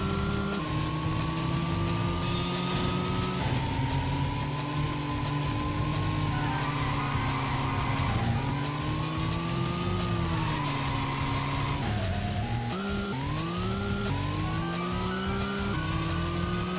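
A car in the video game Racing Lagoon, cornering and skidding: a steady engine drone with pitch rising and falling through gear changes, and tire squeals in the turns, loud and continuous with no talk.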